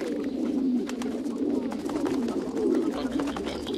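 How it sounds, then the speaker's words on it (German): Pigeons coo steadily while elderly people feed them outdoors, a continuous layered murmur of low throaty calls from a nearby flock with faint background rustle and no talk. "Ältere Menschen, die Tauben füttern"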